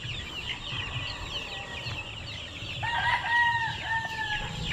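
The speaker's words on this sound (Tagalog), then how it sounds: "Ito yung lahi ng manok na asbok" An Asbok-breed rooster crows in the middle distance with a few clucks, over a steady background of birdsong and outdoor hiss.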